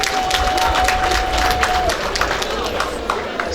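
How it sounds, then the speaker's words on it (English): Applause and cheering fill the room at a funeral reception, a broad steady wash of clapping from a crowd, with a voice speaking over it. "Can we give him a hand of applause"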